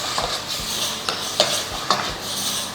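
Onions and about a quarter kilo of tomatoes sauté in a pan for mutton curry, with a steady close sizzle broken by several scraping stirs of a spatula against the metal.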